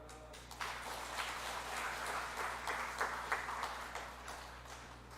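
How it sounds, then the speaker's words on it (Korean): A church congregation applauds during a Sunday morning worship service, a faint, sustained patter of many hands clapping for several seconds in a reverberant hall. "제가 드릴 때 박수로 축하해 주시기 바랍니다."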